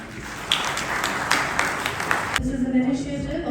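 Applause for panelists at an India-US business summit, a crowd clapping briskly for about two seconds before it cuts off abruptly and a voice carries on over low room noise.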